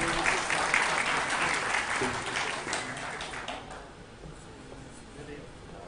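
Audience applause at a documentary film gala, moderately loud at first and then fading to quieter scattered claps, with some low voices mixed in.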